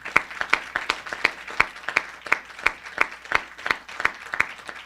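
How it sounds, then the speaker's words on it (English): Audience in a county council chamber applauding Teacher of the Year Sean Pang, a steady patter of claps at moderate distance with no voices over it. "That deserves a round of applause just for that."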